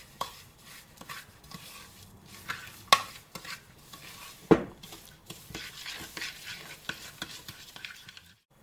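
A spoon or whisk mixes an egg into cake batter in a bowl, with a steady run of soft, close scraping and stirring strokes and a few sharper knocks against the bowl.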